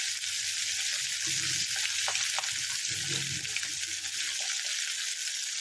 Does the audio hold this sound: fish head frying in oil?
yes